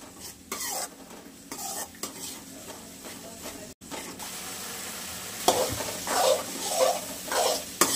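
Masala fries in oil in a pan while being stirred, with a soft sizzle under repeated bursts of spoon scraping against the metal, growing busier and louder toward the end.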